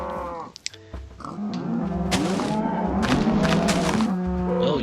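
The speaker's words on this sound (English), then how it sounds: "Oh, you stupid cow." Several cows in the Minecraft video game moo in overlapping, drawn-out calls, loud and close, with a few short clicks and thuds early on.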